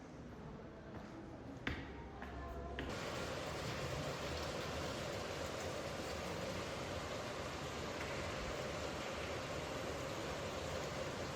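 Rain falling in Budapest, a dense, steady wash of hiss that swells after a couple of seconds and then holds constant, with a brief knock and faint movement early on.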